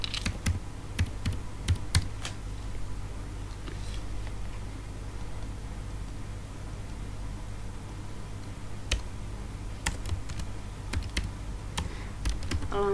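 Steady typing on a computer keyboard while filling in a form, with quick clusters of key clicks, occasional sharper taps and pauses, fairly quiet and alone without speech.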